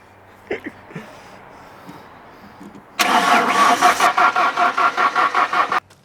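A Mazda B2300 truck's starter motor cranks loudly in a steady rapid rhythm for about three seconds, moving the truck, following a few faint knocks and a quiet stretch.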